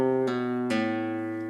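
Three-note triplet plucked on a guitar-like string instrument in a Granadinas passage, two bright attacks ringing with sustained harmonic tones, close and clean with no talking.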